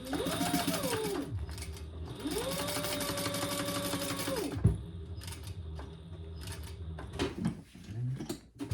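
A sewing machine topstitches a Pachira bag, running in steady bursts with a pause between them, close and clear, with a few handling knocks near the end.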